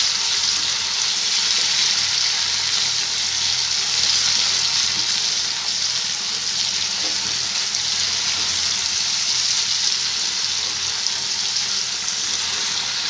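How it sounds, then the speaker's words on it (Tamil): Steady, loud sizzling of tomatoes sautéing in a pan for egg gravy, a continuous hiss with no talking. "தக்காளி நல்லா மையாக கரையிற வரைக்கும் வதக்கிக்கலாம்"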